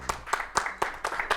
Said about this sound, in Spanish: vamos a aplaudir a Carlitos